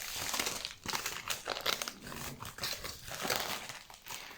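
Padded bubble-paper envelope crinkling and crackling in close, busy bursts, with sharp crisp rustles and no talk over the handling.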